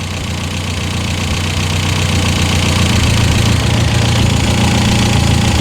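A drift car idles with a loud exhaust leak, giving a rough, steady, close-up rumble with a ragged, puffing pulse that builds slightly louder over a few seconds, with no talking.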